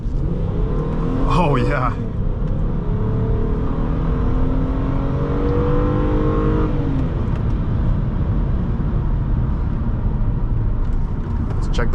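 A 2008 Hyundai Sonata GLS V6 accelerating hard on a test drive, its engine droning loudly and rising steadily in pitch from the cabin, with road roar throughout and a brief voice early on.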